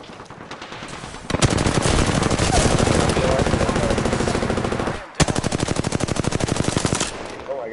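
Rapid automatic gunfire from Apex Legends, firing in sustained bursts with a brief break near the five-second mark before another close, loud volley.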